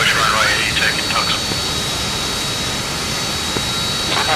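A-4E Skyhawk jet engine roaring steadily and loudly through a landing approach in a combat flight video game, with a broad continuous rumble and whine throughout, voices talking over it.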